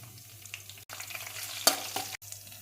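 Cut green chillies frying in hot oil with mustard seeds and dal for a Telangana-style aloo tomato dosakaya curry, giving a steady close sizzle with light stirring scrapes and a brief louder crackle partway through.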